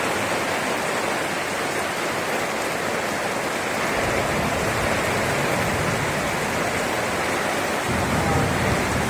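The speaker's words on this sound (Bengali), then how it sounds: "আজকে সকালবেলা থেকেই প্রচণ্ড বৃষ্টি পড়ছে" Heavy rain pours steadily in a dense, even roar, loud and unbroken from start to finish.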